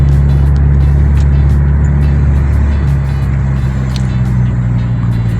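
A Volkswagen Golf 6 R engine hums and rumbles low and steady as the car drives slowly, a close and continuous sound inside the cabin.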